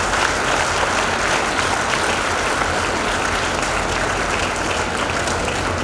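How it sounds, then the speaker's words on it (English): An audience at a medical institute's graduation ceremony claps for the graduates' parents, a loud, sustained, even wash of applause from a large crowd, continuous from start to finish. "So one round of loud applause for your parents."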